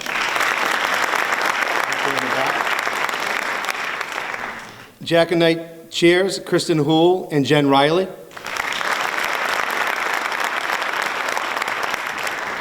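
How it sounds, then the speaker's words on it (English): An audience at a school varsity jacket night claps for volunteers, with sustained applause before and after a short spoken announcement. "nice round of applause for everyone that's helped out this year"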